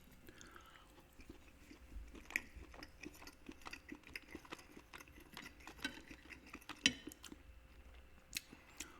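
Lunch being chewed close to the microphone, quiet wet clicks and soft crunches in an irregular steady rhythm with brief louder bites, no talking.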